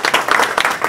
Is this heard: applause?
yes